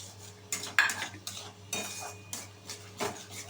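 Green peas and spices stirred in a pan, with a spoon scraping and clinking against metal in uneven strokes over a faint, low sizzle.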